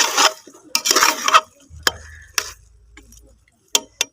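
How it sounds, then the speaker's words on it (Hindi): Beef roasting in ghee in a pan, stirred with a utensil, gives sharp scrapes and clinks in uneven bursts, then a low sizzle with occasional loud knocks against the pan. "तो जब तक हमारा घी सेपरेट ना हो जाए, जब तक हम इसकी अच्छे से बुनाई करेंगे।"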